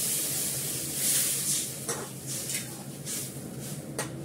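Water poured into a hot pan of fish curry, giving a steady broadband hiss and sizzle that runs throughout at close range, with a few brief clinks and surges along the way.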